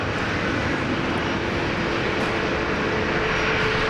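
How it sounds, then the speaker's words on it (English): A Dash 8 turboprop airliner at Brisbane Airport, heard as a steady, loud broadband roar with a faint sustained engine tone running throughout, no voices over it. "Hey, look, a Dash 8."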